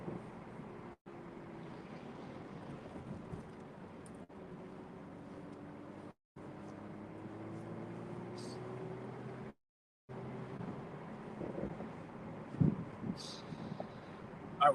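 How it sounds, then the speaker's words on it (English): A sporty car's engine and exhaust burble steadily from inside the cabin while driving across a bridge, a continuous low drone broken by a few brief dropouts, with someone talking over it throughout. "I really love the sounds that this car makes."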